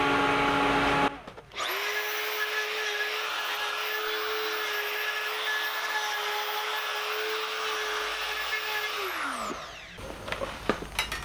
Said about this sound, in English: I can go along and hit that with the die grinder